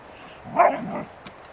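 A dog gives a single short bark, fairly close and moderately loud, followed by a faint softer sound and a brief click in an otherwise quiet space.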